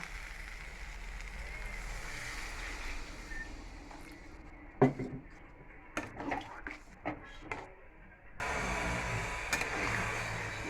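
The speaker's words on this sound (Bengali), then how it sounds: "মশলাটা কষানো হয়ে গেছে সোয়াবিন দিয়ে, এখন এবার জলটা ঢেলে দেবো।" Water poured into a pan of soybean curry, a broad hissing rush that cuts off, followed by scattered clinks and sizzling bursts, then a steady hiss returns near the end.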